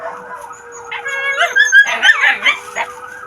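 A dog on a farm howls and whimpers close by, with rising, wavering cries and high whines coming in several uneven bursts. No one speaks.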